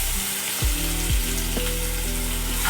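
Ginger-chili paste sizzles in hot oil while being sautéed for street-style pav bhaji, a loud close continuous frying hiss broken by a few scraping stirs and faint tonal hum.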